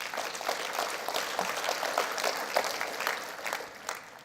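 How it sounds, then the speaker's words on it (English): A crowd at a downtown Boise economic event gives steady applause, a moderately distant wash of many hands clapping that holds evenly for several seconds. "So give yourselves a round of applause."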